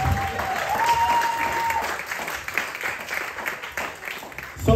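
Applause at a community talent show in Moss Side: an audience claps steadily at moderate distance, swelling and thinning slightly, with a faint voice and a brief tone near the start.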